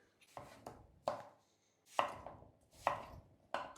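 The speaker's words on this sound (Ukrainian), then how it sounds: "Розрізаю ще раз навпіл. І нарізаю ось такими кубиками." A knife chops through firm pumpkin flesh, cutting it into cubes on a cutting board in uneven clusters of sharp, close thuds, with short pauses between strokes.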